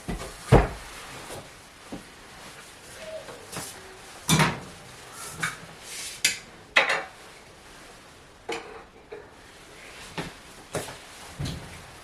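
Items are put back into a large kitchen cupboard, with scattered knocks, clunks of boxes and dishes, and a door bumping shut, close and irregular, with no talk.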